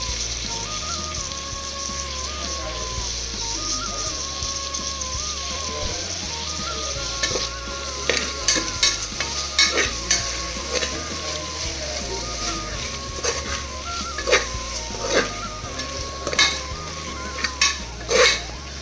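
Onion and ginger garlic paste fry in a pan with a continuous sizzle, while a spoon scrapes and clinks against the metal in bursts that grow more frequent and louder toward the end.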